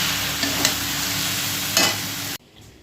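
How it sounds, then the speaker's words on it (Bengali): Cabbage curry with ghee sizzling in a pan while being stirred, steady frying hiss with a few scraping strokes, close and loud, then cutting off abruptly to a quiet room tone near the end. "কপিটা হয়ে এসছে ঘিটা দিয়ে দিলাম চলো এবার নেড়ে নিই ভালো করে নেড়ে মিশিয়ে দিয়ে নিই"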